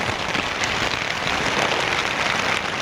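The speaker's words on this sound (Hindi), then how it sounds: "बाहर फिर से बारिश शुरू हो चुकी है।" Steady rain falls outside a camp near Kedarnath, giving a dense, even hiss of drops on surfaces, close and continuous with no voices.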